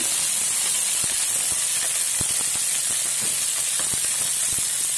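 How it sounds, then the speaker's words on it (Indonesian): Garlic and shallots sautéing in a hot pan with broth or water added, a steady hissing sizzle with scattered soft clicks and pops throughout, no talk. "kita tumis bawang putih dan bawang merah. Kita tumis, kita beri sedikit kaldu atau air."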